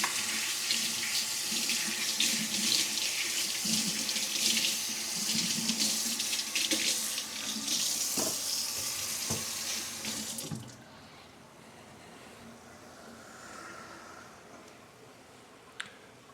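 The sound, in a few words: washing something under a running sink tap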